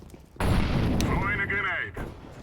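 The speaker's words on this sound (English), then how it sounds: "Throwing fire." An incendiary grenade is thrown in CS:GO, giving a sudden loud burst into a roaring, crackling fire that holds for over a second and then fades, with a voice heard underneath.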